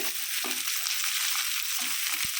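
Chopped onions frying in a pan with garlic for a Bengali beef bhuna, giving a steady close hiss and sizzle throughout with faint stirring scrapes.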